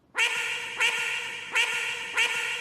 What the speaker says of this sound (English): When the ducks line up like that and overlap, it gets really loud in my headphones